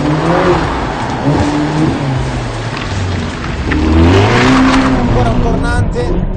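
Ferrari California T driven hard through hairpins on Monte Carlo Rally mountain roads, the engine rising and falling in pitch as it revs between corners, loud and close, with a voice talking over parts of it.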